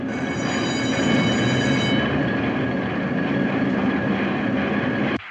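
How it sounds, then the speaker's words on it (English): A newspaper printing press rumbles and clatters in a continuous loud mechanical roar with a high steady whine, cutting off abruptly near the end. "That noise, what's that racket? That's the press, baby."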